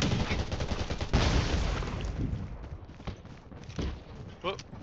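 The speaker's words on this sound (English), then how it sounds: "Oh, getting shot in the back now." Gunfire crackles and rattles in the zombie game Undawn, a dense stretch of shots blending with footsteps, game noise and talk over the top.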